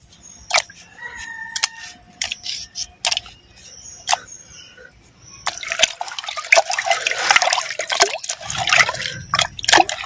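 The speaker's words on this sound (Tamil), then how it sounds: "சுட்ட உப்பு கட்டத்தை நல்லா அலசிக்கிட்டான்" Roasted salted mutton is rinsed by hand in water, with irregular splashes, drips and sloshing close by, then a denser stretch of swishing water. Nobody speaks.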